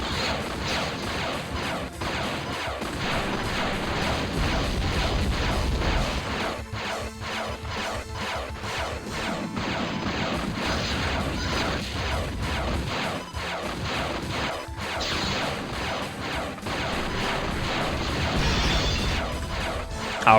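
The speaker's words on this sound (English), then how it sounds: "I'll never stop shooting." Video game gunfire and crashing impacts pound almost without a break, a dense, loud barrage of repeated shots and smashes lasting the whole stretch with no talking.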